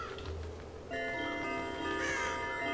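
Crows caw in the Child of Light video game, with a few harsh calls near the start before steady, tonal game music takes over.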